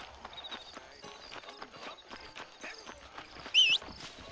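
A horse in Red Dead Redemption walks with a steady clip-clop of hooves close by, over a quiet ambient bed, with a brief bright chirp near the end.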